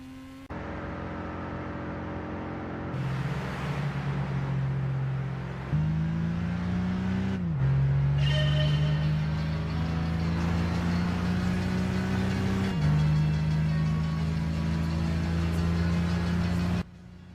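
Racing car engines in the PS3 game Gran Turismo 6 drone loudly and continuously, with pitch rising through the gears and dropping at several shifts.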